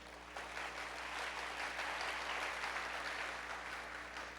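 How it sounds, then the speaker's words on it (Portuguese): Applause from a church congregation during a Portuguese-language Easter sermon, a steady, fairly faint patter of many hands continuing for several seconds with a low hum underneath. "Vamos aplaudir, né, gente?"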